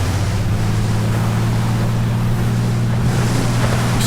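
A simulated seaplane in Flight Simulator X speeds across water, its engine a steady low drone mixed with a constant rushing of wind and splashing water, loud and unbroken with no voices.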